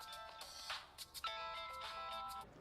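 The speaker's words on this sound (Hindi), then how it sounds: "ये उसी का फोन है।" A mobile phone rings with a bright, repeating electronic melody of tonal notes, loud and close for the whole stretch, with no talking over it.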